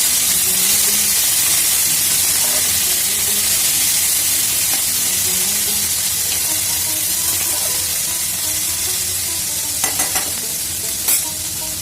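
Cut okra and potatoes with chopped green chilies sizzle and hiss steadily in hot oil, a loud continuous frying crackle with a few brief clinks of stirring near the end.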